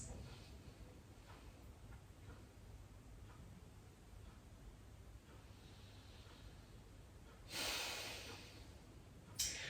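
A slow, deep breath drawn in and let out during a whole-body Pilates session, quiet and close, with a faint sniff later and soft room noise throughout.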